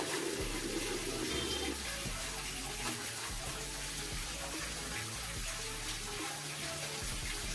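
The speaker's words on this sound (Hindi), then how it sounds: "फिर पानी की आवाज़ को फॉलो करते करते मैं इस जगह पहुंचता हूं।" Water rushes and splashes steadily inside a cave in Meghalaya near Cherrapunji. The gushing stream sounds close and continuous with no talk over it.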